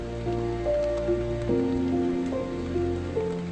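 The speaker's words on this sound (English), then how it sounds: "Just waiting for the rain to stop." Steady rain patters down in a continuous wash, with a few low tonal hums running through it and no voices.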